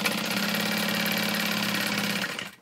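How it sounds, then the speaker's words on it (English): A sewing machine stitches two lines across a custom backpack, a loud, steady mechanical whir with rapid knocking that runs continuously and then slows to a stop at the end. "I'm gonna sew two lines across that"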